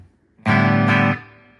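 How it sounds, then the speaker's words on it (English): An electric guitar plays through a new amp with reverb turned on: one loud sustained chord, swelled or struck twice, then a ringing reverb tail that fades away. It sounds close and alone. "if I wanted to add a little bit of reverb"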